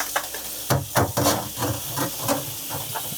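Very hot tap water rinsing a dirty dishwasher filter, a steady hissing spray with repeated splashing bursts as the filter moves under the stream, close and fairly loud with no talking.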